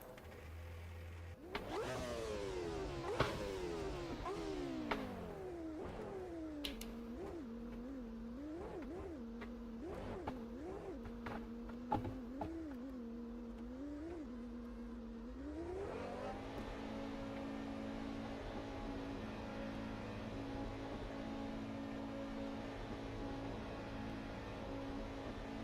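Formula race car engines in the sim racing game Automobilista 2 rev and scream through a series of rapid up-and-down pitch sweeps like gear changes, then settle into a steady high whine near the end; no voices.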